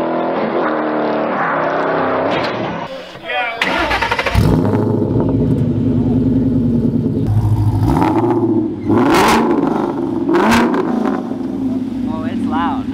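A 2012 Ford Mustang 5.0 with bolt-on modifications fires up and revs hard, loud and close, its engine roaring through repeated throttle blips over a sustained rumble, with voices and crowd noise mixed in.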